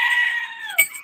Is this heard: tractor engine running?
no